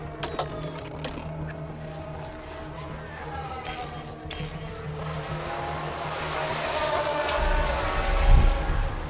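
Race cars crossing the finish line in the video game F1 Manager 24 at the Abu Dhabi Grand Prix, a steady engine drone with a rising whine and a louder low swell near the end, no talk.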